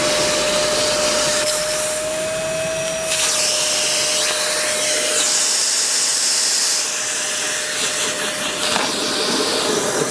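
A Makita 40V cordless vacuum runs with a steady loud whooshing hiss and a whining tone while sucking up a 12-inch, 300 mm chain, with the pitch shifting briefly as it pulls the chain in.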